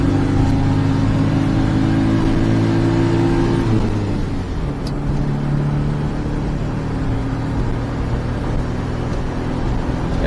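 Daihatsu Atrai XX intercooled turbo mini-truck accelerating on a highway, a loud, steady engine drone that holds one pitch, dips and shifts as a gear changes, then carries on at speed with a continuous road roar.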